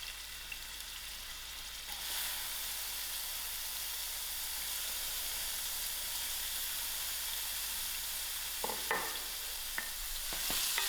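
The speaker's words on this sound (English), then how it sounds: "I'll allow these onions to fry out." Onions fry in hot oil in a pot over medium heat, a steady soft sizzle and hiss throughout, with a few sharp clinks of stirring near the end and no talking.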